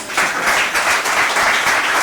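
A hall audience at an official event applauds soldier Diaboy with a short burst of steady, moderately loud clapping that pulses slightly, with no voices.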